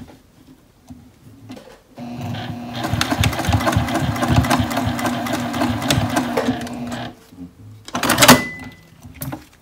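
A sewing machine top stitches folded fabric for a small ID holder, running in one steady, busy burst of several seconds, then stopping, with a short clatter near the end.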